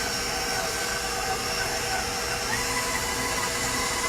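Electric mixer creaming butter and sugar for peanut butter cookie dough, a steady close whirring drone that holds an even pitch throughout with no talk over it.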